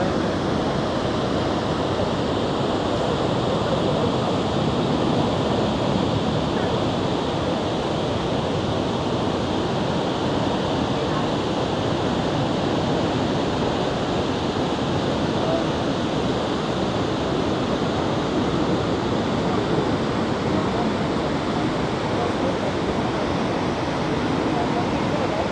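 Niagara Falls in heavy rain, a dense, unbroken roar of falling water that stays loud and even throughout, with wind buffeting the microphone and no clear voices.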